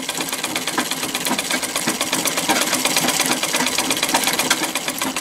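Mechanical clatter of a treadle sewing machine run without electricity, a dense steady rattle of metal parts with quick repeating knocks, fairly close and continuous throughout with no voices.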